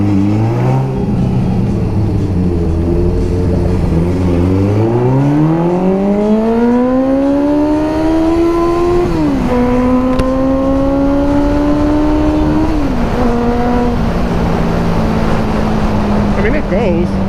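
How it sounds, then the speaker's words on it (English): The engine of a 1976 Honda CB550 motorcycle revs up steadily, its pitch climbing through several gear shifts, loud and close throughout. "If I get around these cars or get ahead of them, I could do a little bit of acceleration"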